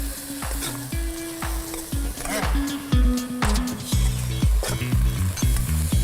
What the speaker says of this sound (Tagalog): Igigisa muna ang bawang, sibuyas at kamatis.